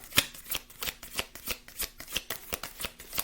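Tarot cards are shuffled up close, giving a quiet run of crisp riffling flicks in a quick, fairly regular rhythm over a few seconds.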